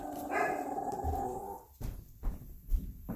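A dog growls low and rumbling for a second or two, then lets out several sharp barks spaced apart, close and loud, with no talking.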